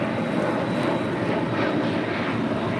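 Airplane engine roaring at LAX airport on the taxiway, a loud steady broadband rumble heard alone without speech.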